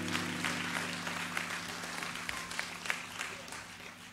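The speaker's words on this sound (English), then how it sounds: "Give him a round of applause." Applause from a church congregation honoring their pastor, a steady wash of clapping with a low hum running beneath it, fairly distant and even throughout.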